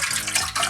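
Liquid, a water and egg mixture for pretzel bun dough, poured in a steady continuous splashing stream into a mixing bowl, close and fairly loud, with no talking.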